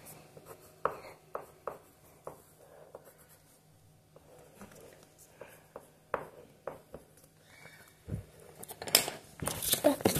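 Pen scratches out a word on a small paper note, with short rhythmic strokes and taps, then louder paper rustling and tearing near the end, close and fairly quiet.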